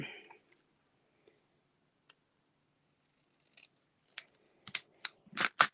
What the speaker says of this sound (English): You could also turn around and cut the strips off from your ends.